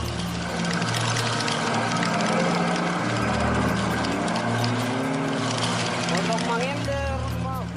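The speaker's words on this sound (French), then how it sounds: "Le roulement de la roue avant fait du bruit." A noisy, worn front wheel bearing on an old Mercedes truck rumbles and groans under a steady, loud engine drone, with rising tonal whines near the end as the vehicle grinds along a rough African road; voices talk over it.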